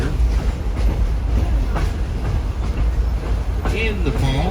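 A scenic railroad train near Lincoln, New Hampshire runs along its tracks with a constant heavy rumble and faint rhythmic clacking heard from on board, with a voice faintly underneath.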